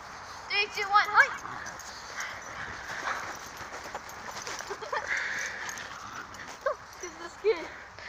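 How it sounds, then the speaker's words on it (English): A pug dog gives a few quick, light barks and yips during play, scattered across the clip with a sharper burst near the start, while voices murmur in the background. "By the way, the dog is a pug."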